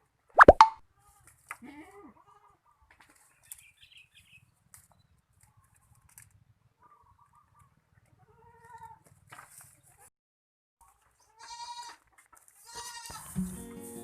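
Goats on a farm are being fed tamarind branches, with a sharp knock at the start, sparse faint rustles and clicks, then brief bleats near the end in an otherwise quiet setting.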